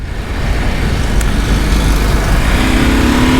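Husqvarna Norden 901 motorcycle accelerating on a road, a loud, close engine roar with wind rush that builds steadily, the pitch rising toward the end.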